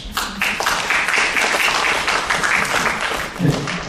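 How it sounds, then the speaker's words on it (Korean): Applause after a presentation at a Buddhist academic conference, many hands clapping in a dense, steady roar that sustains for several seconds with slight swells. "발표를 해주신 경영수님 다시 한번 박수 부탁드리겠습니다"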